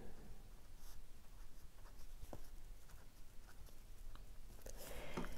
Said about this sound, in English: So I'm now going to go over everything in pen.